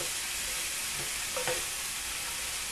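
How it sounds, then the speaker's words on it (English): Carrots stir-frying in a pan give a steady, close hiss of sizzling oil throughout, with a few soft stirring scrapes partway through and no voices. "let's let this fry off a little bit longer until our carrot is half cooked"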